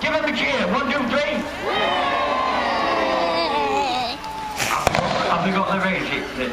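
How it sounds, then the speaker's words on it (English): Spectators at a staged naval battle show in Peasholm Park, Scarborough, raise a cheer for the escort vessels, a loud rising swell of voices over a nearby announcer's talk, then a sharp bang. "Here come the escort vessels. Give them a cheer."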